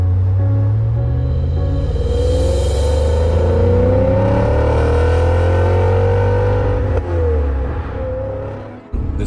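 A BMW E39 M5 with its S62 engine pulls loudly from inside the car, the rumbling drone climbing steadily in pitch through a long acceleration before the revs drop off near the end.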